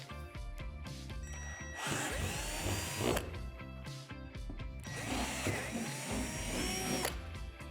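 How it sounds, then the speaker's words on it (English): A power drill with a 3/8-inch bit bores holes through the deck of a Lifetime climb-and-slide playset, two whining, grinding bursts of drilling separated by a short pause, close and fairly loud. "Using a 3/8 drill bit, drill out these two holes on the opposite side of the deck."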